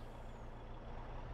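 Farming Simulator truck idling with a steady low engine rumble and a faint hiss of air brakes, continuous and close with no voices.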